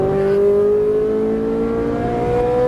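Ferrari 458 Italia engine under light throttle on a track, a close, smooth tonal drone climbing steadily in pitch as the revs rise.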